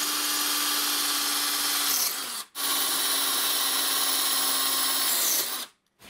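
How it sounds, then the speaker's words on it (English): A hammer drill with a 5/16 tile bit bores two holes into tile, giving two long, loud, steady whining runs, each cut off by an abrupt stop, with no talking. "we will drill two holes using the hammer drill"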